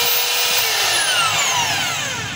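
A DeWalt D25032 rotary hammer drill, tested after an armature and brush holder replacement, runs with a steady, loud motor whine throughout, alone with no talking.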